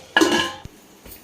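A metal lid is set onto a cooking pot of spiced bottle gourd masala curry left to simmer on low heat, giving a close, loud clatter and scrape followed by a small clink and a faint later tap.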